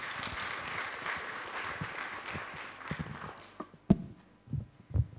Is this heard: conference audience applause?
yes